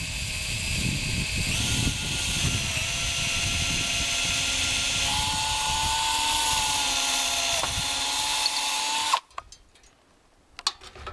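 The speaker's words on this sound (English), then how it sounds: "We're going to drill a hole that goes through both of the rafters and put a pin there" A power drill bores a hole through two wooden rafters of a portable round house, a loud steady whine shifting in pitch as it cuts, then stopping abruptly to near silence.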